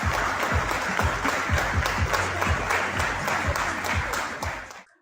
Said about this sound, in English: let us give a big round of applause to our panelists.